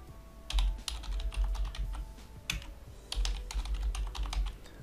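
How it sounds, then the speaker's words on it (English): Typing a new password on a computer keyboard: bursts of quick, close key clicks with short pauses between them, over a quiet room hum. "you're going to type a new password"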